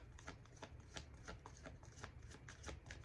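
Rapid crisp riffling of a deck of cards being shuffled, a quick series of soft rhythmic bursts close by.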